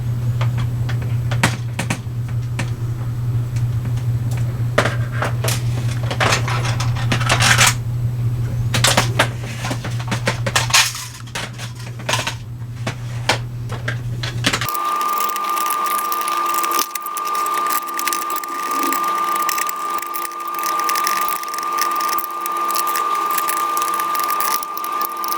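Small screws being backed out of a 3DPS Nexus Pro gun, a steady rapid mechanical whirring and ticking that runs throughout, its tone shifting partway through, close and fairly loud with no talking.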